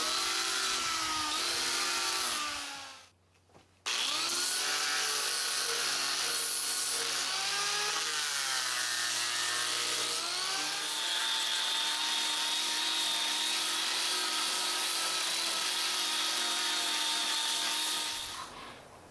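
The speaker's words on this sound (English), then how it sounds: "the finish with a grinder is really quite sweet" Angle grinder fitted with an 80-grit disc sanding a green lumber log bench, giving a loud, steady whirring grind whose pitch rises and falls with the load, broken by one short pause near the start.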